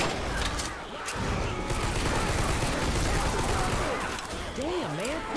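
Rapid, dense Left 4 Dead 2 gunfire on the Hard Rain map, a continuous loud fusillade of overlapping shots filling the clip, with brief voice-like tones surfacing near the end.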